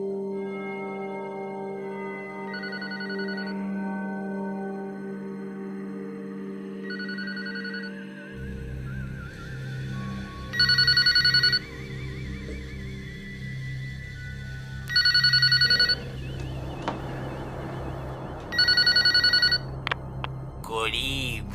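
A telephone rings in repeated electronic bursts, three bright loud ring cycles spaced a few seconds apart, following a stretch of tonal music, with faint voices in the background.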